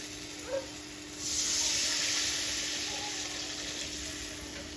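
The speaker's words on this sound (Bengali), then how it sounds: "মশলা থেকে এখন আমি জল দিয়ে দেবো" Water poured into a pan of spice paste fried in oil: a small knock, then a sudden broad hiss of sizzling that swells and settles into a steady bubbling simmer.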